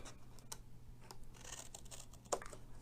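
Scissors cutting paper for a handmade card box, heard as a few faint, quiet snips and crisp paper rustles spread out in a calm room.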